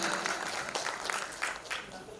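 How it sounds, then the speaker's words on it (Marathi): An audience at a Shahu Jayanti function applauds the guest speaker with continuous clapping under a moderate level, while a voice talks over it. "त्यांच्यासाठी एकदा जोरदार टाळ्या या ठिकाणी झालेल्या पाहिजे"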